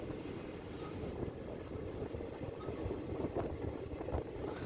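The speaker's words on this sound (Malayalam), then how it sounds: "ഇവിടുന്ന് നമ്മുടെ ട്രെയിൻ മെല്ലെ എടുത്തിരിക്കുകയാണ്" A passenger train slowly pulling away from Thodiyapulam, a small station on the Shoranur–Nilambur line, a faint, low, steady rumble of carriages with soft rattles, heard without talk.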